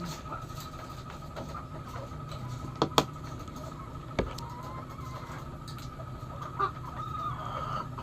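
A lame chicken clucks faintly in a few scattered bursts against a steady outdoor background hum, with a couple of sharp clicks.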